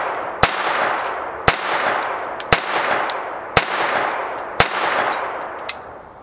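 Six evenly spaced gunshots from a Walther TPH .22 LR pistol, sharp loud cracks about a second apart, each with a bright ringing tail over steady outdoor background noise.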